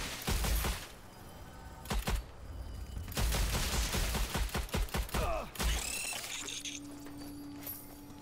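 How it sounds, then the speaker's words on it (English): Rapid gunfire bursts from the Strange Brigade video game, with sharp volleys repeating across the clip and brief pauses between them, loud and close, ending with a lower mechanical hum. "Yes, fantastic shooting."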